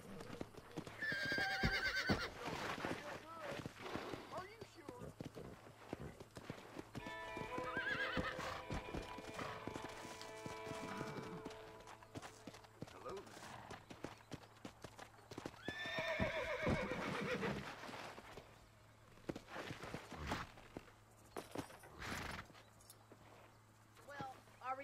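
Horse hooves clip-clop steadily in Red Dead Redemption, with several loud, close whinnies rising over the hoofbeats and game voices talking at times.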